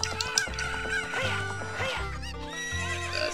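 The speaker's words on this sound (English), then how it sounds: "Run over the chickens." Chickens cluck in The Legend of Zelda Ocarina of Time Master Quest, short squawking calls mixed with a horse's whinny and hoof clip-clop, fairly quiet and continuous over about three seconds with no talking.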